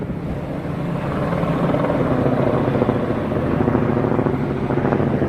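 A helicopter drones steadily overhead, a loud continuous rotor rumble with a faint choppy pulse and wind buffeting, filling the whole stretch with no voices.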